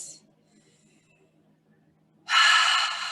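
A deep, breathy inhale during a guided meditation, a brief hiss at the start, then near silence before a loud, close, sustained breath swells in at the end.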